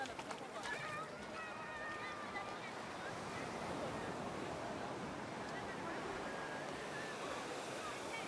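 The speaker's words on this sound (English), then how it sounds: "This is the Indian Ocean, my first time here in the Indian Ocean." Waves wash steadily along the Indian Ocean shore at Mombasa, a continuous low surf roar mixed with wind buffeting the microphone, with faint voices in the background.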